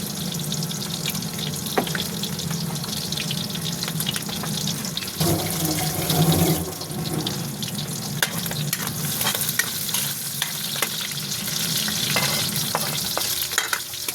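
A tap runs steadily nearby, a continuous hissing gush of water with a brief shift in tone partway through.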